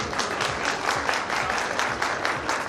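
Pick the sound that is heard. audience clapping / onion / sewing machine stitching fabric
audience clapping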